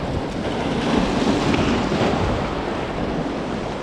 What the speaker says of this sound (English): The tide is really ripping out hard now.